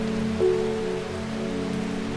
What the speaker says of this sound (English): It's a rainy day, nice and calm.